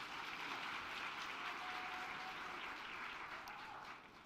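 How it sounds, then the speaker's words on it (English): Audience applause at a university graduation ceremony for a Faculty of Management and Commerce graduate, a soft, distant, steady patter of many hands clapping across a large hall, with no talk over it. "Let's give him a warm round of applause."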